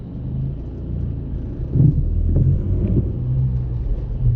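A BMW 318d E90 with the M47 diesel engine and a full straight exhaust revs while stationary, giving a deep, loud, continuous rumble with a rise in throttle partway through.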